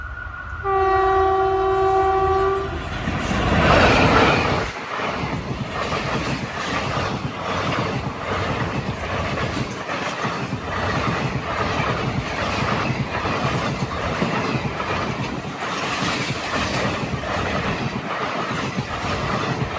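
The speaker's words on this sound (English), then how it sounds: "Palakkad Express roaring past us in full throttle, hauled by the powerful WAP4 locomotive" Palakkad Express passenger train hauled by a WAP4 electric locomotive approaching Palakkad Junction at Olavakod, opening with a loud multi-tone horn blast, then roaring past at full throttle with steady heavy rumbling and rhythmic wheel clatter close by.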